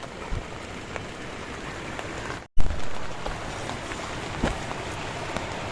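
Steady rain patters on surfaces around a campsite in dense forest beside a waterfall, a continuous even hiss with scattered louder drops, briefly cut by a short gap of silence midway.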